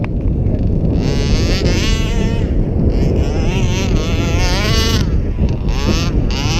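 Gas engine of an HPI Baja 5b RC car revving hard on the pipe outdoors, a loud continuous high-pitched buzzing whine that rises and falls in pitch, with heavy wind rumble on the microphone throughout.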